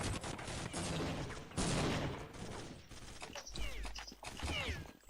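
MAC-10 submachine gun fire in Counter-Strike 1.6, dense rapid bursts and fusillades crackling in loud waves among other game effects, with brief voices under the shooting.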